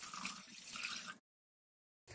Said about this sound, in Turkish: Üzerine de 4 su bardağı su ekliyorum.